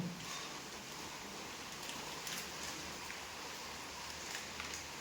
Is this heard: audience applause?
no